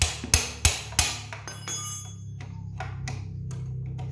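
Several sharp, loud hammer strikes ring out on a motorcycle part during a restoration, about four quick blows close together and then lighter taps fading out over a low hum.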